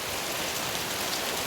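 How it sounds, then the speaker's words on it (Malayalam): Heavy rain falls in a steady, even hiss, a brief unbroken patter with no other sounds. "മഴ പെയ്തുകൊണ്ട് കേണ്ടതാ, നല്ല മഴ"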